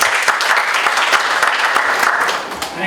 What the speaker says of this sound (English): Let's give a thunderous round of applause as we welcome Mr. Lokesh Mehra.